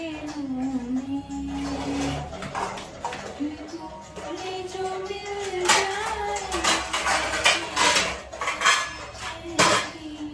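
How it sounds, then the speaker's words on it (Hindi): Dishes, pots and cutlery being washed at a kitchen sink, with steady running water and frequent clinks and clatters of metal utensils and pans, growing busier and louder toward the end, close by with no talk. "अभी मैं जा रही हूँ बर्तन धुलने"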